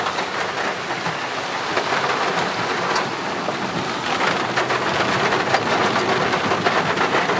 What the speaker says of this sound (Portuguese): a chuva tão esperada chegou aqui na região de Rolândia